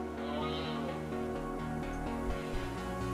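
An alpaca in RimWorld gives a wavering, bleat-like cry over a busy, harmonic game soundtrack, both moderately loud with no talk.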